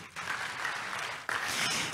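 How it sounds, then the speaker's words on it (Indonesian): Church congregation applauding during a sermon, a steady patter of clapping that swells briefly louder partway through. "Tepuk tangan buat Tuhan."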